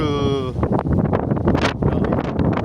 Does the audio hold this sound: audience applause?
no